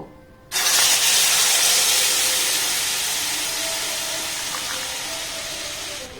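Sudden loud hiss as a blended paneer mixture hits a hot, dry wok, the burst of sizzling steam starting abruptly and then fading slowly over several seconds, close and unbroken.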